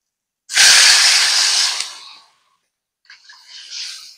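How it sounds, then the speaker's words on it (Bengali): Water poured into a pan of frying potato and pointed gourd in a Bengali fish curry sets off a loud, close burst of steamy sizzling hiss that fades after about two seconds, followed by a softer, crackling simmer. "আলু কাঁকরোল ভেজে নিয়েছি, এবার জল দিয়ে দেব।"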